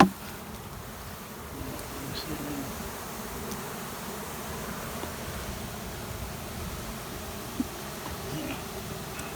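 A honeybee swarm being caught hums in a steady, continuous buzz at moderate loudness outdoors, with a brief knock at the start and people talking quietly now and then.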